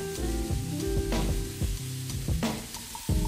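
Sliced ginger going into sauteing vegetables in a pan, giving a lively sizzle broken by repeated clattering stirs and scrapes of a utensil, close and fairly loud.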